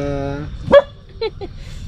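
A dog at a camp in La Trinidad, Benguet gives a single short bark, followed by two fainter yips, heard right after a harmonic voice or whine fades out.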